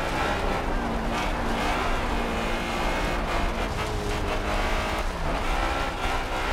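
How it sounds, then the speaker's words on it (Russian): A Honda S2000 Fast & Furious Edition in Forza Horizon labors over rough off-road terrain, its engine droning steadily with shifting pitch and gravel-like noise, a continuous close rumble with a voice talking briefly over it. "Очень тяжеловатенько тут машинка едет."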